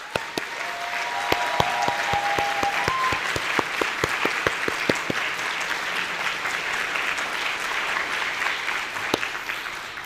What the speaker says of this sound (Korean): 우리를 위해 수고하신 장년부들을 위해 박수 한번 할까요?